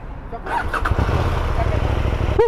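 A 2023 KTM 890 Duke R motorcycle fires up and revs, its engine catching sharply and then growling loud and close. Voices talk nearby.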